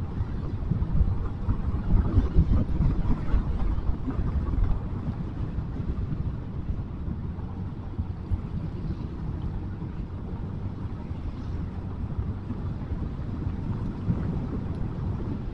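A motorcycle rides a country road from Lintau to Batusangkar over Puncak Pato, a low steady engine rumble buried under heavy wind buffeting, louder in the first few seconds and then even.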